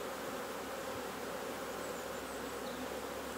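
Honey bees hum in an open hive during a queen-rearing inspection, a dense continuous buzz at low level, close and unbroken, with no talking.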